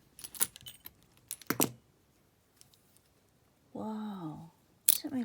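Old keys jangling while old locks are handled, several short metallic rattles in separate bursts, close and fairly quiet, with a brief voiced sound between them.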